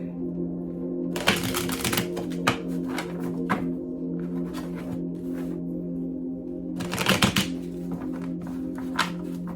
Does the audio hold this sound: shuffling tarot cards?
yes